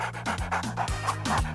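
A dog pants rapidly and loudly right up close, in quick regular breaths with no other sound competing.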